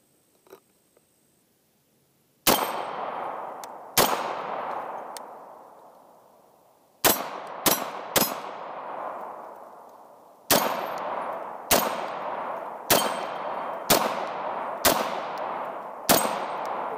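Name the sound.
Sig MPX K gunfire hitting steel target plates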